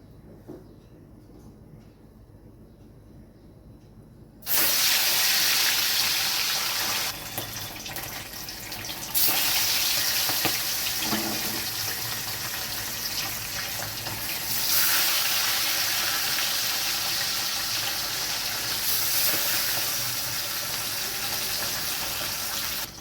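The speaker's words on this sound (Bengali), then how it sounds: "তেলটাও গরম হয়ে গেছে এবার আমি মাছগুলো ভেজে নেবো" Fish frying in hot mustard oil in a kadai, a loud continuous hiss and sizzle that starts abruptly after a quiet opening and surges in waves as more pieces go in.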